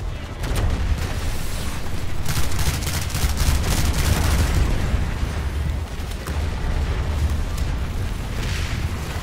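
Rapid weapon bursts in the online shooter Planetside 2, a dense continuous roar of gunfire and booms with deep low rumble, loud and unbroken throughout.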